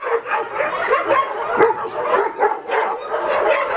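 Several dogs barking at an animal shelter in Buryatia, a dense overlapping chorus of barks, yips and whimpers, close and loud, continuing without pause.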